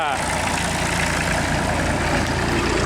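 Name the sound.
old Ferguson tractor engine idling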